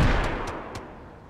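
Rotary autocannon firing in the mech game Roguetech/Battletech, three quick loud blasts at even intervals over a booming, rumbling wash that slowly fades.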